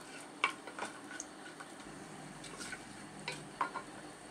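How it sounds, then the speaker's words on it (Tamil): Cashews roasting in a pan with cinnamon and cloves for vegetable pulao: faint, sparse scrapes of a spoon over a soft, low sizzle, with a few brighter clicks scattered through. "முந்திரி வந்து ஒரு 9 முந்திரி இதில் போட்டுக்கிறேன். நல்லா போட்டு வறுத்துக்கலாம்."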